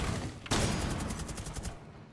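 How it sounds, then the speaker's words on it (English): A flashbang grenade goes off in a shooter game, one sharp, loud burst that cuts in abruptly and is followed by a rapid flutter of crackling pulses that fade out. "Flashbang."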